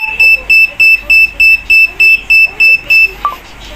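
A loud electronic home alarm system buzzer beeps in a steady rhythm while arming, about ten evenly spaced tones, then stops and a single short chirp follows.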